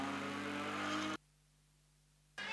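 GT4 race car on the Shelsley Walsh hillclimb, a loud, gruff full-throttle engine roar that cuts off abruptly into near silence, then resumes.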